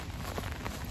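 Steady rain pattering on an umbrella held by someone walking outdoors, a close, dense, even drumming that runs the whole second without pause.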